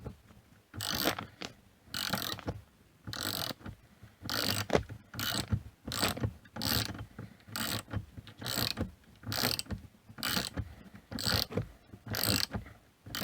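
Ratchet tightening bolts on a TV wall mount, with repeated bursts of rapid clicking strokes separated by short pauses, close and fairly loud throughout.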